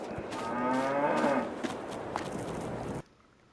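Cows mooing in the Farming Simulator 22 video game, with a long, loud low moo that rises and fades, then quieter calls and scattered clatter before the sound cuts off abruptly.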